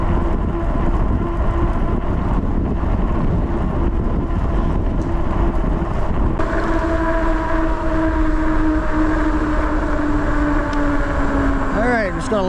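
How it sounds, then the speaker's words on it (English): A CYCROWN CycRoma dual-sensor e-bike with a 48V battery hums steadily while riding on a road, with constant road and wind rumble and a rising motor whine near the end, and a rider talking over it. "I like you to hear the real road noise,"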